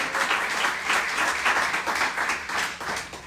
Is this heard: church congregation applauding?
yes